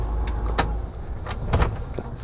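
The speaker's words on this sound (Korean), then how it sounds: "시동 끄고." Car engine switched off during a driving test, heard as close mechanical clunks and clicks inside the cabin, with a low rumble fading under a few sharp transient knocks.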